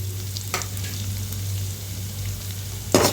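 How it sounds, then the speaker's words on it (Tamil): Chopped onion dropped into hot oil with golden garlic gives a steady close frying sizzle, with short bursts of crackle near the start and again at the end as it hits the pan. "இந்த டைமில் கட் பண்ணி வச்ச வெங்காயத்தை வந்து சேர்த்துக்கலாம்."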